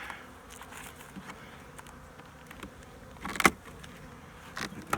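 Honey bees buzzing around an open hive during a spring hive check, a soft continuous drone with occasional louder close passes and a few clicks and knocks from handling.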